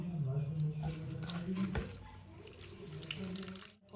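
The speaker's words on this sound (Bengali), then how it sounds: "পুরো জলটাকে সেপারেট করে এইভাবে চিপে নিয়ে, দেখো এইভাবে পুরো চিপে নেব।" Wet mashed cabbage squeezed by hand, water splashing and trickling into a bowl for cabbage pakoras, close and steady under a person talking throughout.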